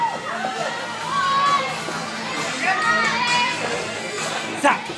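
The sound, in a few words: crowd cheering for Ho Chi Minh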